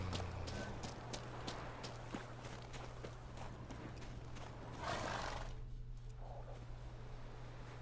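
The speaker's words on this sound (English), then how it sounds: "Oh no, we gotta catch that horse." In the video game The Witcher 3, hooves clip-clop in a galloping rhythm amid a steady low hum and background noise, with a horse whinnying briefly partway through.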